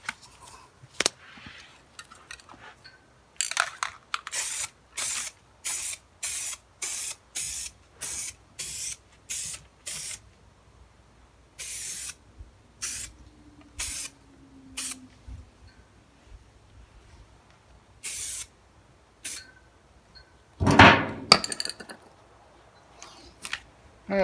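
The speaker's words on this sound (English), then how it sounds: "So let's put some primer on." A spray gun lays primer over a rust repair in a rapid series of short, sharp hissing bursts, close and loud, with pauses between the strokes and one longer spray near the end.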